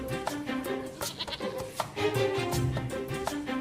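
A goat bleats repeatedly and close by, its wavering cries overlapping in quick succession.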